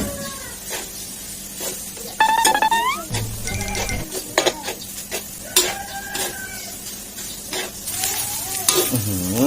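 Field rat stir-fried in a pan with homemade curry paste, sizzling steadily while a spatula scrapes and stirs in repeated strokes, with chickens clucking and crowing nearby in the background.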